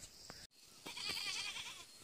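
Goat bleating, heard as a couple of brief, fairly faint nasal cries close by, with no talk over them.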